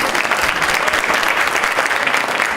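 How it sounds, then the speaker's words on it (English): Loud, dense clapping from an audience at a school IB awards ceremony, close and continuous with no pauses for the whole stretch. "We can clap."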